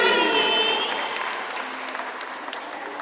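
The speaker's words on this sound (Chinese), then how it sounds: "让我们用最热烈的掌声欢迎七美教会的青年" An audience at a church Christmas service applauds a youth group's performance, a loud burst of clapping that slowly fades over a few seconds while a musical tone rings in at the start.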